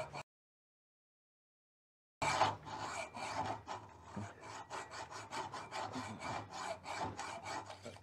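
Hand sawing with a blade at a VW Beetle ball joint on the suspension arm, a steady rhythmic rasping of repeated strokes, close and fairly loud, beginning after about two seconds of silence.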